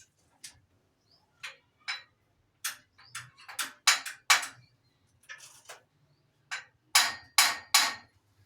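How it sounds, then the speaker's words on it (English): Metal hammer blows strike a set screw on an old Indian-made, cycle-driven flour mill, about fifteen sharp, ringing taps in irregular clusters, some louder than others, with quiet gaps between. "Then I will hammer."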